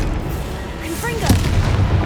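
A Confringo fire spell blasts in Hogwarts Legacy, a rushing whoosh followed by a loud booming impact and a rumbling tail over dense game background noise.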